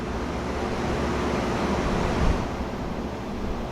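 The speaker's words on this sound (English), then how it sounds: "it's pouring outside" Heavy rain pouring down outdoors, a steady dense hiss that holds at an even level throughout with no voices over it.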